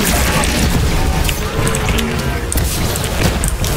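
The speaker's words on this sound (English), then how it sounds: "Throw grenades" Grenade blast in the video game Borderlands 3, a loud, dense crashing boom filling the whole stretch with rumbling debris and a brief voice underneath.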